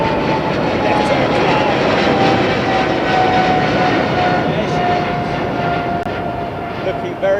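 Japan Airlines airliner climbing out of Heathrow Airport, a loud steady jet engine roar with a sustained whine that holds for the whole stretch, under constant broadband noise.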